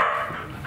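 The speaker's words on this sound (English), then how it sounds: "And she fucking barks." A single short dog bark from a troublesome household dog, close and fairly loud, with no talking over it.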